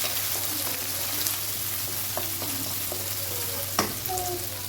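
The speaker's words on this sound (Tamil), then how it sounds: "நல்லா டீப்பாக ஃப்ரை பண்ணிக்கலாம்" Shallots and curry leaves deep-frying in oil produce a constant close sizzle and crackle, with a faint low hum underneath and a few small clinks of a stirring utensil.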